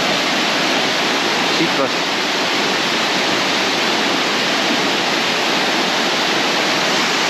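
A waterfall on the Bolaven Plateau in Laos roars as a steady, loud, broadband rush of falling water, close and continuous throughout, with a brief voice calling out once over it.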